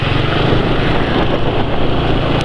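A motorcycle engine running on a Rimula R2 oil change with a canola oil additive runs steadily nearby, a continuous rough rumble with no change in pace.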